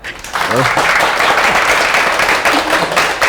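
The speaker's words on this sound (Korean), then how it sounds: "열화와 같은 박수 부탁드립니다" An audience at a webtoon cartoonist's lecture welcomes him with loud, continuous applause; a voice speaks briefly near the start and again toward the end over the dense clapping.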